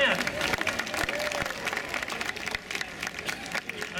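An audience at a North York community meeting applauds and cheers for a neighbourhood association member, a steady wash of clapping and crowd noise that fills the whole moment, with voices mixed in.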